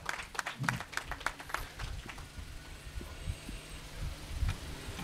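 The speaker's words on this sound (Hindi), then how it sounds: "तो ज़ोरदार तालियां बजा दीजिए शादमानी के साथ।" A church congregation gives faint, scattered applause, quick distant claps in an uneven rhythm that thin out over a few seconds against a low background.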